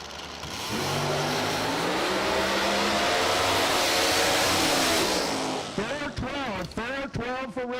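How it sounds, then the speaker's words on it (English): Drag-racing Mustangs fitted with nitrous and a Roots-blown big block Chevrolet engine roar loudly at full throttle for several seconds, then fade as a voice commentates over the end. "Roots blower over here in the right lane, sitting on top of big block Chevrolet."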